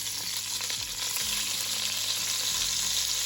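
Butter and onions sizzle in a pan for Zuppa Toscana soup, giving a steady, close, crackling fry that holds evenly through the clip with no talking.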